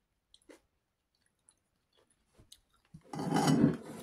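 Someone eating kimchi soup at close range. A few faint mouth clicks and small sounds lead into a short burst of wet chewing and slurping near the end.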